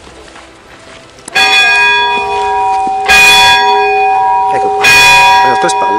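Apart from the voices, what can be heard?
church bell tower ringing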